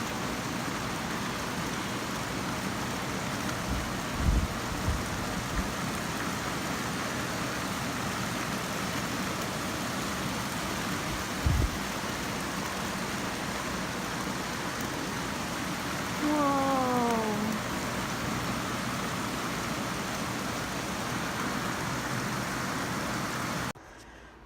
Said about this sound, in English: It's the 4th of July and it's raining like crazy.